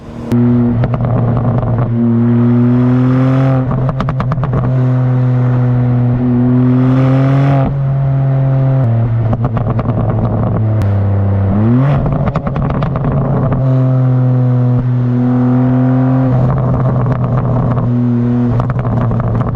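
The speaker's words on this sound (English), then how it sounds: "It just has the Akrapovic exhaust, but those pops also come on a stock M4 Competition." A 2025 BMW M4 Competition LCI with a 530 hp engine and an Akrapovic exhaust revs hard through repeated upshifts, its loud tone rising and dropping at each gear change with crackling exhaust pops, heard from inside the car.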